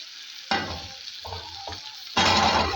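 Bitter gourd tipped into hot oil in a pan for tamarind kuzhambu: a sudden loud sizzle bursts up, settles into a steady fry, then swells again sharply near the end.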